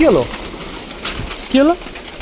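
Pigeons at a pet loft give two distinct cooing calls, one at the start and one about a second and a half later, close and clear with quiet gaps between them.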